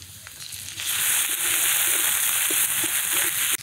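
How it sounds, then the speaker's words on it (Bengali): Fish paste frying in a kadai, a steady broad sizzle that swells and holds loud throughout, with a few light scraping stirs near the end. "এখানে যে অল্প বাটা তুলে রেখেছি সেটাও এখন এই কড়াইতে দেব"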